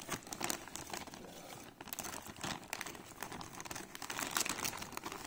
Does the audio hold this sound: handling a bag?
yes